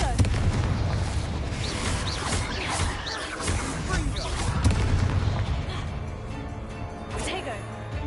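Confringo spell explosions in Hogwarts Legacy burst again and again in loud, rapid succession, layered with crackling impacts and spoken spell incantations over the combat.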